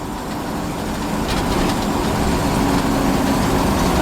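An abandoned 1956 Chevy's engine labours uphill in third gear, a loud, dense, steady drone that barely changes, with no talk over it.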